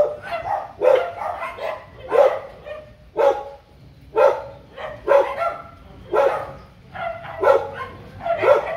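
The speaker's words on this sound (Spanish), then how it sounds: "Es una jauría de chuchos." Several stray dogs bark repeatedly at a moderate distance, a pack following a female in heat, sharp barks overlapping in an irregular rhythm roughly once a second, with some yips mixed in.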